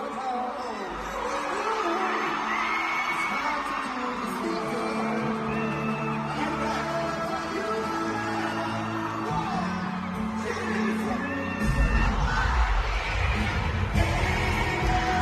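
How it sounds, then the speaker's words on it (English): Concert crowd of adult fans at a show yelling and whooping loudly and continuously, a dense roar of voices with music underneath, swelling louder near the end. "those 30 and 40-something-year-olds were yelling and as loud as they were when they were 15 years old"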